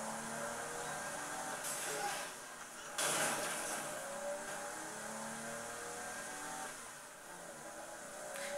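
A car engine in the video game Saints Row: The Third, a steady mid-pitched drone with shifting revs while driving, moderately loud over game background sounds and a few brief bursts.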